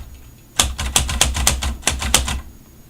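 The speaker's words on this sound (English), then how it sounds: "So now I start typing on the new line." Keys strike on a mechanical typewriter in a quick irregular run of sharp clacks, close and loud, then stop, with no talking.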